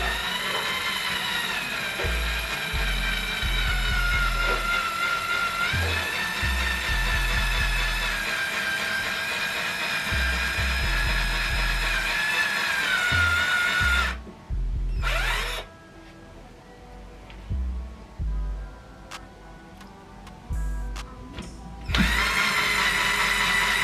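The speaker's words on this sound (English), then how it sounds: "Putting holes in walls and that." A power drill bores a hole into a wall to mount a TV. Its steady, close whirring runs for about fourteen seconds, breaks into short bursts and pauses, then starts up again near the end.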